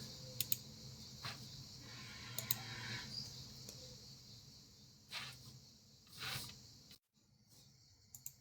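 Cicadas outdoors in Brittany give a faint, steady high-pitched buzz that runs through most of the stretch, with a few soft clicks and rustles on top and a brief drop-out near the end.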